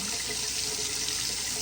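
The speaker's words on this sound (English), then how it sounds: "And since my water is running for about 30 seconds," Tap water runs steadily into a kitchen sink fitted with a garbage disposal, a constant close hiss of splashing flow with no break and no voices.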